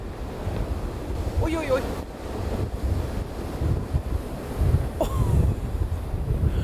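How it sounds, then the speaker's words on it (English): A big sea wave strikes a ship crossing from Svalbard to Tromsø in northern Norway, a heavy rushing surge over constant wind buffeting the microphone, with a person exclaiming in the middle. "here's a big wave"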